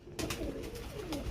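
A robust male golden pigeon offered for sale coos close by, with a few soft, repeated rolling coos across a short stretch and no talk.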